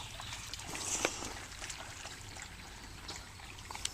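A small creek trickles faintly under a bridge in a wetland forest preserve, a soft, steady babble of water with a few light splashes and clicks, heard from close by and without voices.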